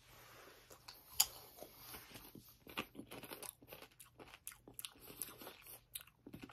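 Taco Bell chips dipped in cheese sauce and eaten close up, a sharp crunch followed by a run of soft, irregular chewing crackles, quiet and without talk.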